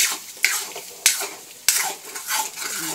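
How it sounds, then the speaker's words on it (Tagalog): Chicken stock being stirred in a cooking pot, with a few sharp utensil knocks against the pot over a soft, continuous swishing and a light simmer underneath. "Halo ko na itong ating chicken stock. Haluin natin."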